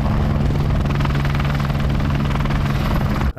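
A hovering helicopter over a dual carriageway during a filmed car chase, loud steady rotor thumping and low engine drone throughout, cutting off abruptly at the end.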